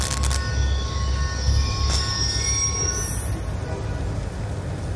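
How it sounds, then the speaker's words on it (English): A train rolls past in the video game Call of Duty Black Ops 2, its wheels squealing with high metallic screeches over a low rumble, loud and close, ending in a rising whine. "Ain't getting anything else with that train in the way."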